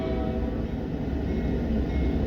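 Westbound manifest freight train passing in Fremont, Nebraska: a loud, continuous low rumble and rolling clatter of railcars at close range, with no talk.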